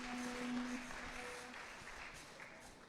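Congregation applauding during an evening prayer service in church, a soft, diffuse spread of clapping heard from a distance, steady and then slowly fading.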